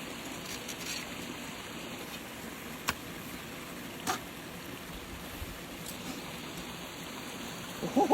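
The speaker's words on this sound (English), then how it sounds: "this culvert is, it's pouring water" Water pours steadily from a large culvert into a pond, a continuous broadband rush with a few faint knocks, heard outdoors at moderate distance.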